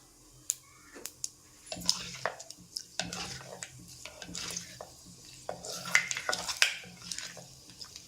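Fenugreek seeds go into a hot oiled pan for a Tamil-style fish curry, with scattered clinks, scrapes and stirring clatter over a faint sizzle.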